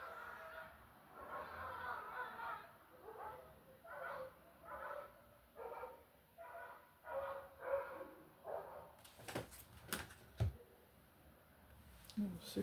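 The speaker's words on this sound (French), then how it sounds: "Ce cri de chien m'a glacé le sang." A dog barks outdoors in a string of faint, distant, evenly spaced calls, followed by a few sharper, scattered knocks near the end.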